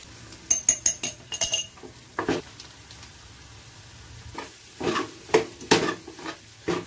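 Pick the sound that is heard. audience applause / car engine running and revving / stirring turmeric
stirring turmeric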